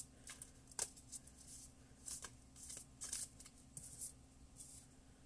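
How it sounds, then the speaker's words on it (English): A deck of tarot cards being shuffled by hand, a steady run of soft papery riffles and slaps with a few sharper card snaps, fairly quiet and close, with no talking. "So, let me shuffle these."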